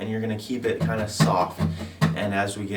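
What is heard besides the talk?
No distinct noise like a dog, phone or traffic.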